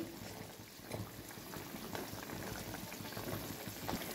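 Eggplant dorma stuffed with red lentil filling simmers in water over a high flame, giving a soft, steady bubbling and gentle popping that stays faint and continuous throughout.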